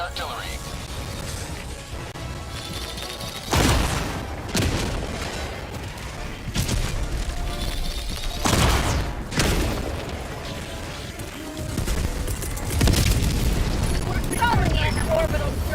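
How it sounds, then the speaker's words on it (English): Enemy artillery shells from the Helldivers 2 game burst repeatedly, several heavy booming explosions at irregular intervals over continuous battle rumble, with someone talking in between. "Enemy artillery."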